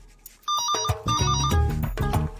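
A telephone bell rings in a domestic film scene, sounding loud and close in two clear bursts of ringing with a short gap between, no talk over it.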